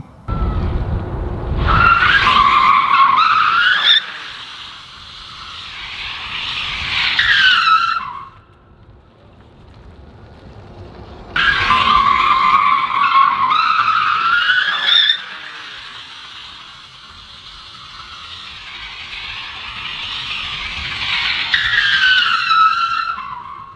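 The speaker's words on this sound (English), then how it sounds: "Let's go see about that sideways driving kind of thing. Or maybe let's just go get some donuts." A car doing donuts, its tires skidding and squealing in two long, loud bursts with quieter engine and tire noise between them.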